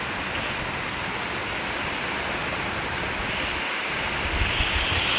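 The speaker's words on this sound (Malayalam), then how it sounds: "ചെരിഞ്ഞിട്ട മഴ പെയ്യുന്നു" Heavy slanting rain pours down over a garden in a dense, steady hiss, loud and unbroken throughout, with a few louder spatters near the end.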